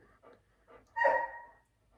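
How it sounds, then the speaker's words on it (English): A dog trapped in a bathroom makes a few soft whimpers, then one louder, drawn-out whine. It is heard alone in a quiet room. "My other dog is just trapped himself in the bathroom."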